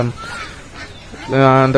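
Ducks and other poultry for sale at a rural village market, a loud honking, goose-like call sounding close by in two bursts, with a short gap between them.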